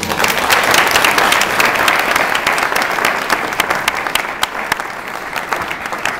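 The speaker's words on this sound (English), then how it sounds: "I want to give a round of applause for what we do here in Colorado." Loud audience applause at a Colorado theatre awards ceremony, a thick crowd of hands clapping with sharp individual claps standing out, gradually thinning and growing quieter toward the end.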